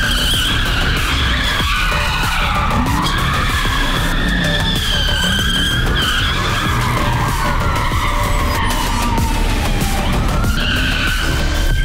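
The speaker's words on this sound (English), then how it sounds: "we want to find a switch in the fuse panel to disconnect that so it can do a rolling burnout" A police car doing a rolling burnout with its transmission strained, producing a loud, continuous tire squeal that wavers in pitch over a roaring engine, close and steady throughout.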